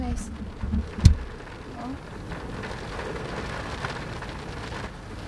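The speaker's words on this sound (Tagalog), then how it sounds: "So ayan, ang lakas ng ulan." Steady rain patters over a low rumbling background of strong wind at a fishing spot in Japan, with a sharp thump near the start; the downpour continues evenly without voices.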